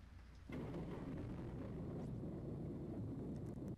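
Heavy rain and a deep rumble of thunder from the video game Corpse Party surge in abruptly and then roll on as a dense, steady wash. No one speaks.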